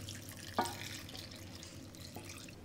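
Tap water runs steadily into a kitchen sink while a dill beef stew is being prepared, a continuous close splashing rush with a brief louder gush near the start and no speech.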